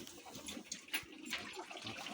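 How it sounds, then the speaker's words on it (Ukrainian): Water runs from a tap on a dairy cow farm, a short steady splashing hiss that rises and falls slightly over about two seconds. "Так, знаєте пішла водичка."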